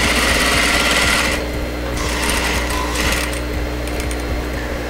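Loud, steady whirring of a sewing machine running continuously as it stitches a zipper pocket, the motor drone dipping slightly partway through before carrying on.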